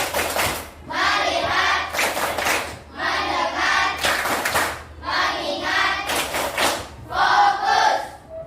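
A school class performs a rhythmic focus clap in unison, with bursts of loud clapping and chanted voices in repeated phrases, each separated by short pauses.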